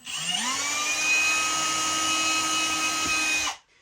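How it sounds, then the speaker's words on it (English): A power drill pre-drilling holes in a wooden table spins up with a rising whine, runs at a steady high pitch for about three seconds, then cuts off abruptly. "So I'm going to go ahead and pre-drill all of our holes here."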